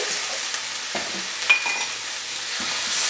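A spoon stirs apple and pork chop stuffing, moistened with chicken stock, in a hot pan: soft scraping strokes over a steady, bright sizzle, close and continuous.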